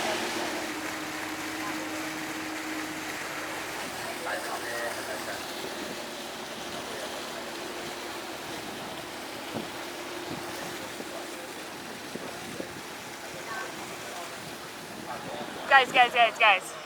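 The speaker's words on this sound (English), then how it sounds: "let's just like sail the seas and see where we get" A boat crosses the sea toward Lamma Island in Hong Kong, its engine a steady low rumble under wind and water noise, with muffled voices and a brief burst of clatter near the end.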